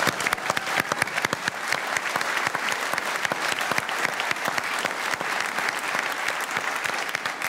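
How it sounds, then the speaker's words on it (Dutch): A crowd at a dance-off event applauds. The clapping is dense and steady, with sharp individual claps throughout, and keeps a constant level for the full length. "Daar wil ik een applaus voor."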